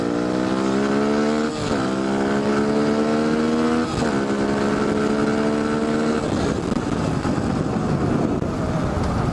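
A Beta RR 125 LC motorcycle riding down a short straight, its engine rising through repeated revving pulls with gear changes between them, then settling into a rougher steady drone, loud and close.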